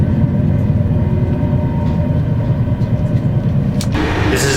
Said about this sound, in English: This is the 3rd train.